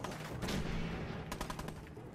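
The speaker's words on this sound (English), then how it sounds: "I'm shooting." Gunfire in Fallout 4, a quick volley of faint crackling shots clustered in the second half over dense game background noise.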